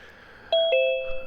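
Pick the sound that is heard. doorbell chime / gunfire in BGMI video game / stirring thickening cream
doorbell chime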